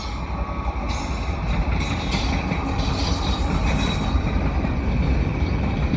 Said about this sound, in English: Looks like you got a CN freight.